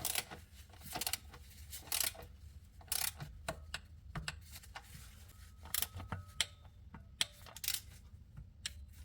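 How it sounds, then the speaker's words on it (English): Torque wrench clicking and ratcheting on the transmission pan bolts of a Mercedes 722.9 seven-speed automatic, with short sharp mechanical clicks in irregular bursts at close range over a faint background hum. "let's start from the middle and torque them down to 4 Newton meters"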